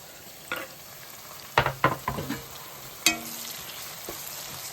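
Chopped medium tomatoes soften in hot oil over cooked onions for a cauliflower and chana dal curry, giving a faint low sizzle broken by a few sharp clinks of a spoon against the pan.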